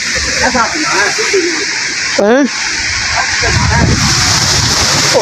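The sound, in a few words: rain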